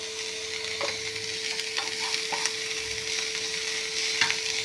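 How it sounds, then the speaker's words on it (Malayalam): Sliced onion and two green chillies sautéing in a pan with a pinch of salt, a continuous close sizzle broken by a few scraping stirs of a spatula, no talking. "പാൻ അടുപ്പത്ത് വെച്ച് നമ്മൾ അരിഞ്ഞു വെച്ച ഒരു സവാള അരിഞ്ഞതും 2 പച്ചമുളകും കൂടി വഴറ്റാനിടാം"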